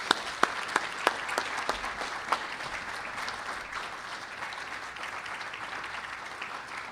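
An audience at a community appreciation celebration claps steadily and warmly, a dense wash of many hands with a few sharper, louder claps standing out early, sustained throughout at moderate level.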